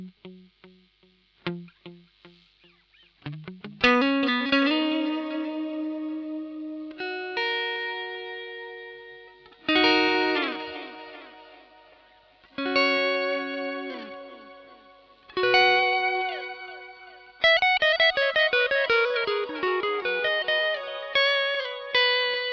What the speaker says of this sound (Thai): เสียงดีเลย์มันจะมีฮาร์โมนิกแหลมๆผสมมาด้วยนะครับ